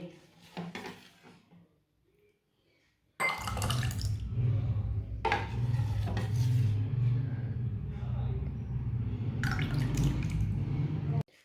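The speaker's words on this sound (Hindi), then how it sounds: "इसी तरह इसे गिलासों में भर लेंगे।" Tukhm malanga sherbet with jelly is poured into glasses, giving a continuous liquid splash and gurgle with occasional glassy clinks, fairly close and steady after a short quiet pause.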